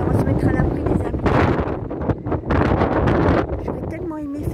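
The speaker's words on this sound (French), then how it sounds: "avec ce vent qui souffle, ça va pas être exceptionnel" Strong gusts of wind buffeting the microphone on a high lookout above a village, a loud continuous roar that swells and dips in waves, with a brief lull midway and faint voice fragments near the end.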